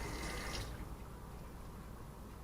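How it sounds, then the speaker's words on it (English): Running tap water splashes over a hand being rinsed after handling taco fillings; a steady, close wash that is fuller for the first half-second and then settles into a softer continuous stream, with no talk. "just rinse my hand off again"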